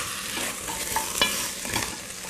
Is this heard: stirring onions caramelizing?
yes